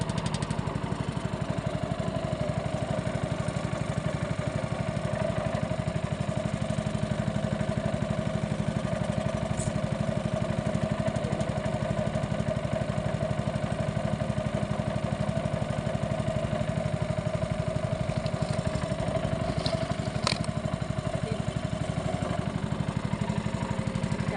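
A small boat's engine runs steadily throughout, a continuous mid-pitched drone with even, unbroken loudness, close and alone with no talking, heard while heading home from fishing on a bamboo raft trip.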